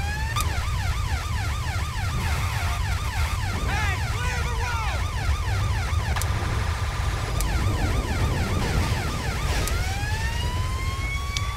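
A wailing siren in Grand Theft Auto 5 warbles rapidly over a constant rumbling thunderstorm, with a few sharp clicks and a rising sweep near the end.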